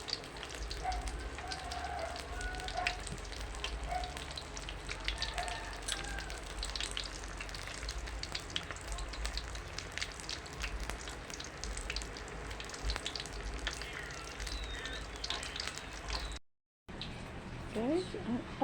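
Lumpiang toque spring rolls frying in hot oil, a continuous close crackling sizzle with scattered pops, steady throughout before a brief dropout near the end, with voices talking over it.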